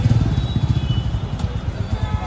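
A new Royal Enfield Classic 350 Stealth Black motorcycle idles close by with a steady, rhythmic low thumping beat, while people talk nearby.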